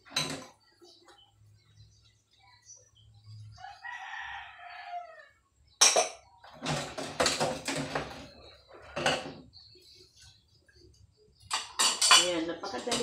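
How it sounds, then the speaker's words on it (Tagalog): Plates and dishes being washed by hand, with clattering ceramic knocks and cutlery clinks in scattered bursts, quiet water and handling sounds between, a rooster crowing briefly in the background. "napakadaling hugasan ng plato, guys"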